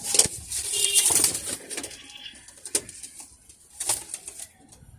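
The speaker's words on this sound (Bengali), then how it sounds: "এই যে একটা খুব ভালো মানের কবুতর" Pigeons, young Teddy birds, coo softly close by, with several sharp bursts of wing flapping scattered through the moment and quieter rustling in between.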